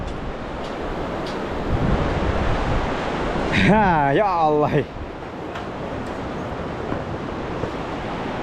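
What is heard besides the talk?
wind blowing outdoors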